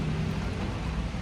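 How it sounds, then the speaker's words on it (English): Heavy rain pours steadily near Hamilton, Montana, a dense, continuous hiss of close, loud drops filling the whole moment with no voices. "It's pouring rain."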